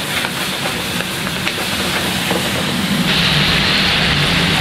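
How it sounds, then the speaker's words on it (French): Calf liver sizzles loudly as it is deglazed with vinegar in a hot pan in a Lyon bouchon restaurant kitchen, a steady close hiss that swells a little partway through. "là on va déglacer donc au vinaigre"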